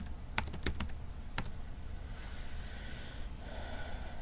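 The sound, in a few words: typing ipconfig on a computer keyboard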